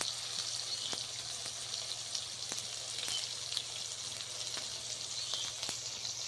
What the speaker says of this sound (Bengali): এবার আদা পেস্ট দিয়ে দেবো।